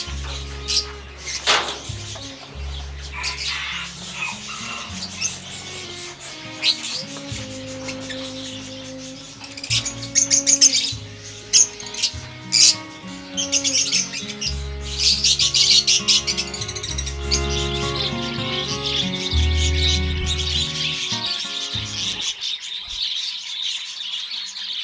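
African lovebirds, cockatiels and parakeets in an aviary chirp and squawk, a busy overlapping mix of bright tweets and whistled calls, some loud and near, continuing throughout with brief pauses.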